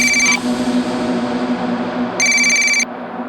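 A phone rings in two short electronic bursts separated by a pause, over a low background hum with no talking.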